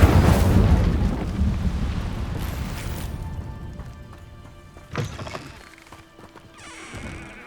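An Incendio fire spell cast in Hogwarts Legacy, a loud roaring whoosh that bursts at the start and fades over a few seconds, then a sharper crack and a smaller trailing burst near the end.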